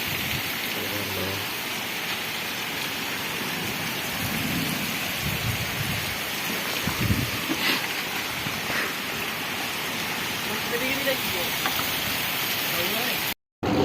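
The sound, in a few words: rain falling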